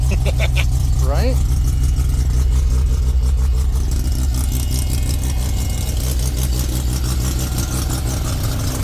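A turbocharged Mazda RX-7 rotary engine idles after its first startup, a loud, steady low rumble with a slight rhythmic pulse. A voice speaks briefly over it near the start.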